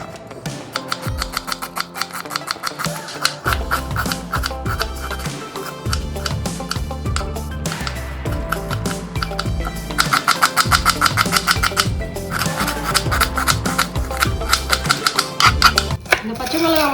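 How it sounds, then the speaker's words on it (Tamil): A knife chops onion, tomato and green chilli on a board in a home kitchen with rapid, crisp tapping strikes in quick runs and short pauses. A person talks over the chopping throughout. "ஃபர்ஸ்ட்டு இந்த ஆனியன், டொமேட்டோ, சில்லி இதெல்லாம் வந்து கட் பண்ணிக்குவோம்"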